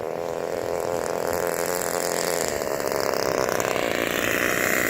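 Four-stroke Losi 8ight-T RC truck engine idles steadily, a close, buzzy, even mechanical drone with no change in pitch throughout.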